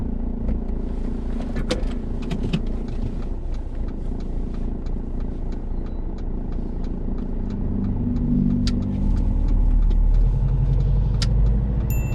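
A car pulls away during a UK driving test, its engine rumbling steadily and close, then rising in pitch and loudness as it accelerates, with small interior clicks and no talking.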